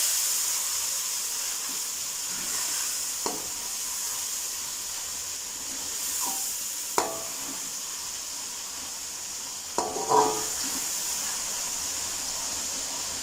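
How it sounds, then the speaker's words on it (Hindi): Masala sizzling and steaming in a pan after a little water is added, heard as a steady hiss with a few soft clicks and spatters, no voices. "मसाले को अच्छे से भून लेंगे। थोड़ा सा मैंने इसमें पानी डाला है।"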